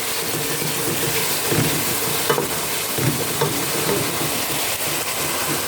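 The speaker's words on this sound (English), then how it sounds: "So now I've just put the tomatoes in there. As you can see, they're cooking nicely." Tomatoes frying in a pan give a loud, close, continuous sizzle, broken now and then by brief clicks and scrapes, with no voices.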